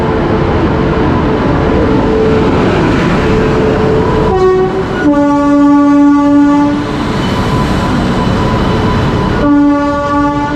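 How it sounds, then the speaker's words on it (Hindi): The West Bengal Sampark Kranti Express pulls into platform 4 of a station with a loud, steady rolling rumble, broken by two long, close blasts of the train horn. "अपनी ट्रेन प्लेटफॉर्म नंबर 4 पे आ चुकी है"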